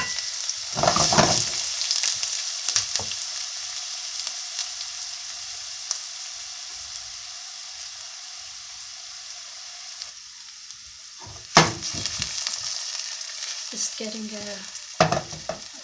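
Onions dropped into hot olive oil burst into a loud, steady sizzle that carries on close by, with a few sharp stirring scrapes and clatters early and near the end.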